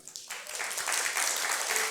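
A church congregation at a Sunday service breaks into applause that swells within a moment and holds as a dense, steady clatter of many hands.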